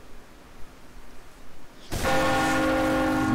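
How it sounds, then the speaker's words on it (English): A loud bell tolling in Team Fortress 2 on a Monoculus map, a sudden ringing, sustained clang with long resonant overtones that bursts in after a quieter stretch and keeps ringing. "Wow, that was a loud bell."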